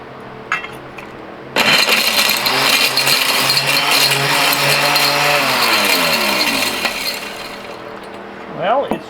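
An ore crusher mill starts abruptly and grinds and rattles steadily, crunching Euro card electronic connectors, then slows and winds down near the end.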